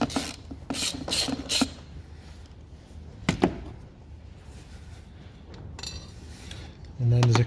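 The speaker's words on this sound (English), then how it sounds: "it's one 13mm bolt, so you'll need an extension on your ratchet" Close ratchet clicking from a wrench with an extension undoing a 13mm battery clamp bolt on a VW Tiguan Mk2, in a few short bursts of rapid clicks separated by quieter pauses.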